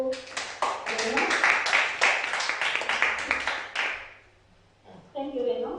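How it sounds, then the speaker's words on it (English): Audience applause for Reno, a burst of many hands clapping briskly for about four seconds before fading out, followed by a voice speaking. "So please give a big warm applause to Reno."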